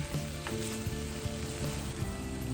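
Fish sauce with pickled cucumbers and sour cream being stirred in a pan, a continuous close sizzle with a few soft scraping stirs over it, no voices.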